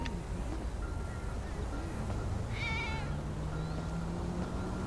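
A cat meows in the GTA Online video game, a short wavering cry over a steady dense background of game ambience.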